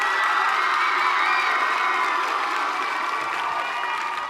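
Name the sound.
audience clapping and cheering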